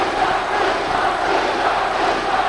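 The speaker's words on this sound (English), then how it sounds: "The chant is for the Korean Chun Jin-Chul. And this crowd has come to life." A dense boxing arena crowd roars and chants for Korean fighter Chun Jin-Chul, a loud sustained wall of voices with no breaks.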